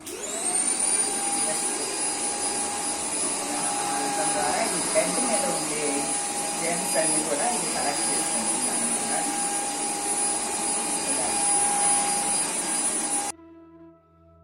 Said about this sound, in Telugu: జస్ట్ దాన్ని బటన్ నొక్కంగానే మిషన్ ఆన్ అయిపోతుంది మనం బెడ్ మీద ఇట్లాగా తిప్పటమే